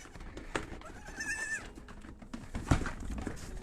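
A goat bleats in a farm animal sanctuary, with a wavering call near the middle over a murmur of background activity and a brief thump afterward.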